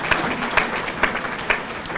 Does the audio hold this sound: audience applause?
yes